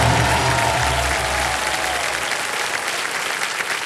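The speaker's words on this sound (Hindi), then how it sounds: "एक बार जोरदार तालियां बजते हैं इनके लिए।" A studio audience on the Kaun Banega Crorepati game show breaks into loud, dense applause for the contestants, the clapping carrying on steadily throughout.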